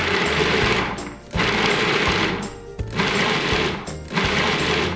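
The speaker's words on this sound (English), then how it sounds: "And process that to a coarse crumb." A food processor grinds drained fava beans with a pinch of salt into a coarse falafel crumb, running loud and close in three or four harsh whirring bursts separated by brief pauses.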